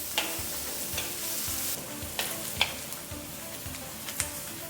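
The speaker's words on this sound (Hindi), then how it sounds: "जब तक प्याज भुन रहे हैं" Onions for tinda sabji, with green chilli, ginger and chopped garlic, sizzle steadily in a pan, a soft continuous frying hiss broken by occasional light clicks of a spoon stirring, with no voices.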